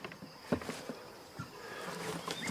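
A faint, steady buzzing of bees hums quietly in the background, with a few soft clicks and rustles nearby.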